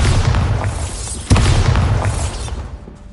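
A Bombarda blasting spell from Hogwarts Legacy goes off as one heavy boom midway, rising over a dense rumbling game backdrop that fades toward the end; no talking.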